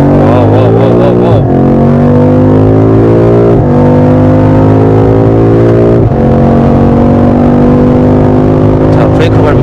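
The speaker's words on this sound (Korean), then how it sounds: "자, 나오면서 속도 올리겠습니다." A BMW M5 accelerating hard on a driving-centre track, a very loud engine climbing in pitch through several gear changes with brief dips at each shift, close and dominant.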